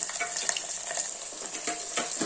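Chopped onion goes into hot oil with mustard seeds and red chillies and sizzles steadily, a busy bright frying hiss with a few small pops and stirring scrapes all the way through.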